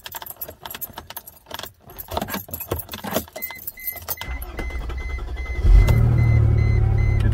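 Keys jangle and rattle close by, then the 1999 Mercedes-Benz CLK320 with a cutting-out fault cranks briefly and catches, its engine settling into a loud, steady idle.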